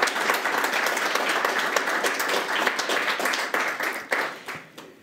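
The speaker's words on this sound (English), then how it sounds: "A round of applause for them for setting up" Sustained applause from a town committee forum audience in a new venue, dense steady clapping that fills the room and gradually thins out toward the end.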